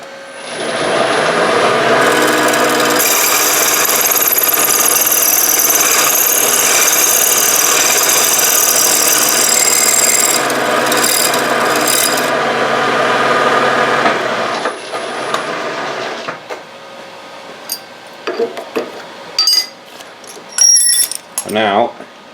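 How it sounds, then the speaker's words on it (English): A slitting saw cuts metal for a screw slot, a loud steady grinding rasp that runs continuously for about twelve seconds, then stops, followed by scattered clicks and handling clatter. "so I know where to slit with my slitting saw"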